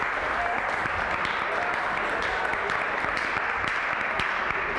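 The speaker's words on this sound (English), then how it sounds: "give them a round of applause" Dense, steady applause from a large graduation audience fills the whole stretch, continuous and loud with no pauses, crowd of many hands clapping together.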